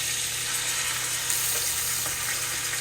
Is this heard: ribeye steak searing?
yes